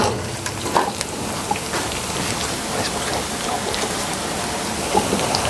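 Butter sizzles in a hot pan while a meat jus is being made, a steady close crackling hiss with small pops scattered throughout.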